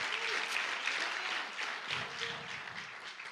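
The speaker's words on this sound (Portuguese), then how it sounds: "Dá uma salva de palmas a Jesus." A church congregation applauds during a worship service, a steady spread of many hands clapping at moderate distance that swells slightly and then eases toward the end.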